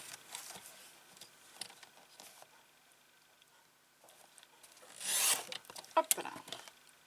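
Scissors or a blade cuts through a cardboard flap for a handmade mini album: soft scraping and rasping strokes near at hand, rising to a louder rough cut and a few sharp snips toward the end, quiet throughout.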